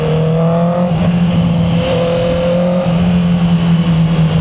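Engine note of a stock Honda CB650R E-Clutch motorcycle, loud and full, rising and blipping as it downshifts, a steady close roar with pitch steps across several seconds and no voices.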